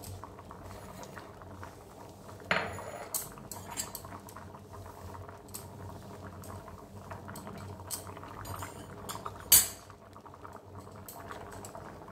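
Dishes and utensils clink and clatter while aloo motor ghugni, an oil-free Bengali potato and pea curry, is served, with a few sharper knocks standing out over a steady low bubbling simmer in the background.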